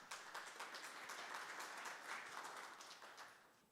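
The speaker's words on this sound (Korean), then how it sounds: "큰 박수로 환영해 주시기 바랍니다." Conference audience applause welcoming a speaker at an ICT industry outlook event, a soft, distant patter of many hands clapping steadily before gradually tapering off.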